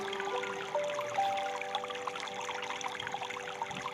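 Water flows and trickles steadily into a pond, a continuous close pouring wash with small bright splashes throughout, no voices.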